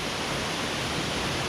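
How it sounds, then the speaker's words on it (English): A waterfall on the Ring of Kerry in Ireland gives a dense, steady roar of rushing water that fills the whole clip without a break. "The waterfall, the name of which we can't pronounce."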